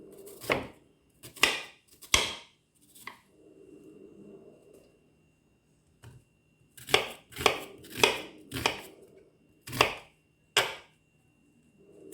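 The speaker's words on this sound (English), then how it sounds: "we can just rough chop them" Sharp knife chops on a cutting board come in quick uneven bursts, a few strokes at a time with pauses between, close and fairly loud, rough-chopping peppers.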